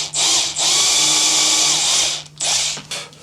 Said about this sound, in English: very carefully, particularly at this end of the neck, just drill some little shallow holes